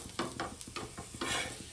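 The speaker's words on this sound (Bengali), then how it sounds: "দেখো বন্ধুরা কত সুন্দর ভাজছি" Aloo paratha frying in a pan, a soft steady sizzle with scraping strokes as it is turned and pressed, close and fairly quiet, with no voices.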